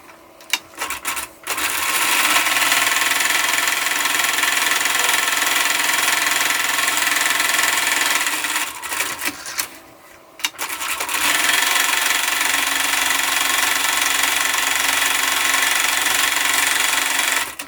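Sewing machine running steadily as it top stitches 1/8 inch from the edge of a fabric key fob, a loud continuous motor whir in two long runs, with a brief pause and handling noises between them.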